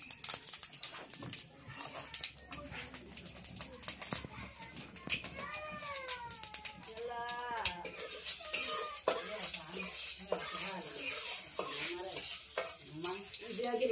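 Gourd, potato and radish frying together in a pan while being stirred, a steady sizzle with scraping and clinks of a utensil against the pan, mixed with animal calls and household noise in the background.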